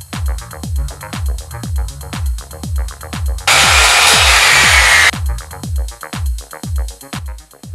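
A wooden tripod part for a video light stand is finished by hand with regular, evenly spaced rubbing strokes, close and clear. Partway through, a short stretch of harsh, continuous noise briefly drowns out the strokes.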